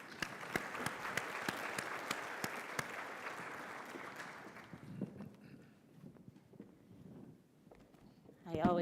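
A conference hall audience at a biotech convention opening gives a round of crisp applause that fades out after several seconds, leaving quiet room tone, a few stray claps and soft shuffling before a voice starts at the end.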